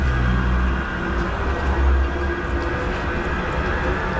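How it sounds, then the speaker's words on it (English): Manchester Metrolink tram pulling away, a loud steady low rumble of motors and wheels with faint hum, fairly close and heard alone. "Off goes the Metrolink"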